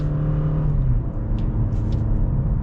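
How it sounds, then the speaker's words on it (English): A 2021 Toyota Camry AWD accelerates from inside the cabin with a loud, steady engine hum and a smooth automatic gear change, the pitch easing slightly partway through. "let's get our acceleration here with the all-wheel drive Camry"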